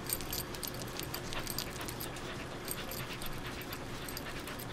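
A dog pants steadily and moves about nearby, with jingling tags or keys and faint whimpers over a constant noisy background.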